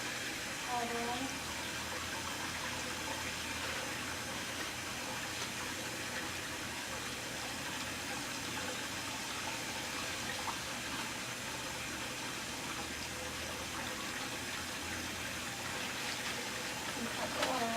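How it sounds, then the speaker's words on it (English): Water runs steadily from a sink tap during handwashing, a constant close hiss and gush with a voice speaking over it. "cut the water off just to push it forward."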